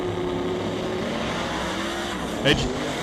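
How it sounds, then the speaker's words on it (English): Camaro drag car launching hard into a big wheel stand at a street drag event, engine roaring steadily before a sharp loud burst near the end. "Big wheel stand on the left-hand side for the Camaro"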